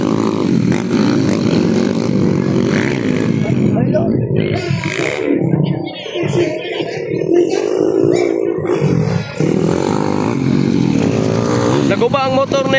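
Motocross motorcycles racing at a Labuagon charter day event make a continuous engine drone that rises and falls beneath loud, steady commentary from an announcer.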